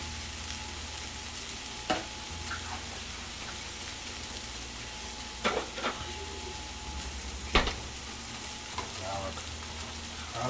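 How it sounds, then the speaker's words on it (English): Spinach sautés in a pan with tomatoes and garlic, giving a steady soft sizzle with a few sharp utensil clicks and stirring scrapes, close and moderate in volume. "here's our spinach. I'll let that saute."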